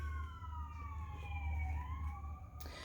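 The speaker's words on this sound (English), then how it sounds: "we have another ambulance going by." An ambulance siren wails in the distance on a town main street, its tone sliding slowly downward as it passes, over a low rumble of traffic.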